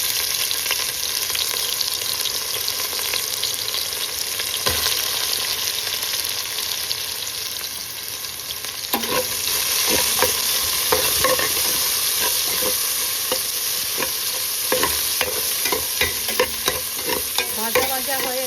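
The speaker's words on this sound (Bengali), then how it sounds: "আমি অনিয়ন বেরেস্তা করব। এগুলা বেরেস্তা হচ্ছে" Sliced onions fry for beresta in hot oil, a steady loud sizzle with clinking stirring scrapes growing busier partway through, no voices.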